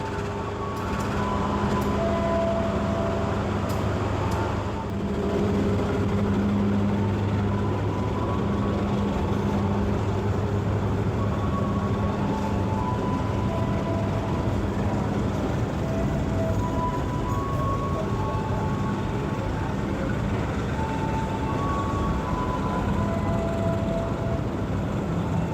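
The KA Baturaden passenger train departs Purwokerto station from track 1, producing a loud, continuous rumble with steady droning engine hums that persist throughout.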